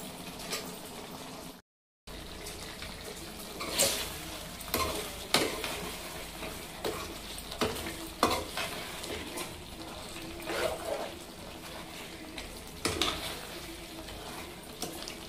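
A homemade curry with ghee, cooked without added water, sizzles quietly in a pan while a spoon scrapes and stirs it in repeated strokes, close by, with no talk.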